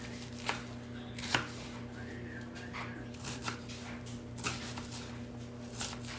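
Half an onion sliced with a knife on a cutting board in a home kitchen, a few sharp knocks of the blade scattered over a steady low hum, no talking.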